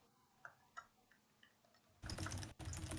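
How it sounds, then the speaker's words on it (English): Fast, loud typing on a computer keyboard: a few faint clicks at first, then a dense clattering burst of keystrokes with one brief pause, close and clear with no voices. "I'm typing loudly because that is how I type when I type fast."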